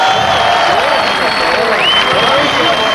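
A crowd applauds steadily, with loud, dense clapping throughout and a few whistles rising above it.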